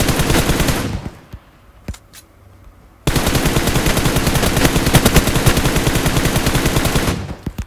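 Rapid automatic gunfire from the mobile game PUBG Mobile rattles in two long, loud bursts of tightly spaced shots, broken by a quieter gap with a few scattered single shots.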